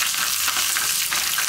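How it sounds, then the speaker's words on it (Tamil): Urad dal frying in hot oil as a tempering for a thin coconut chutney, giving a steady, close, loud sizzle with no talk. "ஒரு கால் ஸ்பூன் அளவுக்கு உளுந்தம் பருப்பு போட்டுக்குவோம்"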